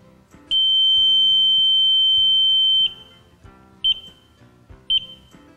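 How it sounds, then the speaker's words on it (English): An ESI Short Buddy audible short finder gives a long, steady electronic beep for about two seconds, signalling a short at a truck's trailer connector, followed by two short beeps spaced about a second apart, loud and close. "The long beep indicates a short occurred."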